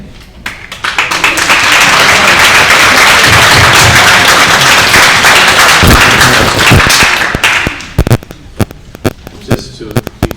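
Audience at a school board meeting bursting into loud, sustained applause, building quickly and holding for several seconds before dwindling into scattered claps.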